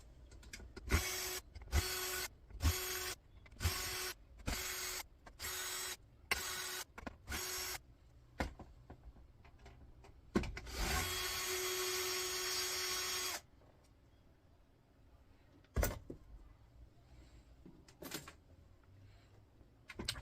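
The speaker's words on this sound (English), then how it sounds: "we'll get the screws out of this board." Screws being backed out of a circuit board from a car entertainment system, with a rapid series of sharp mechanical bursts from a powered screwdriver, then a longer steady whir and a few scattered clicks, close and clear.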